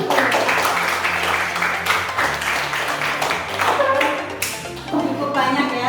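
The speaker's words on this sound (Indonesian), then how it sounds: "Oke, tepuk tangan buat kelompok 1." A classroom applauds group 1 after their presentation, a sustained round of many hands clapping at moderate loudness that carries steadily throughout.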